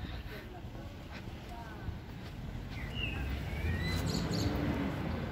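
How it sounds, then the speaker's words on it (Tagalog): Faint, scattered bird chirps outdoors at the castle in San Marino, a few short tweets rising over soft wind and background rumble, growing slightly busier toward the end. "Pakinig niyo ba yung mga ibon?"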